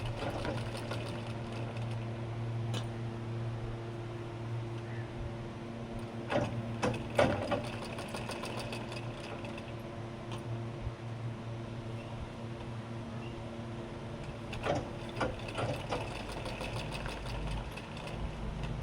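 A sewing machine runs steadily, stitching a filled piping edge on fabric, with a continuous mechanical hum and a few sharper clicks and thumps along the way. No one speaks.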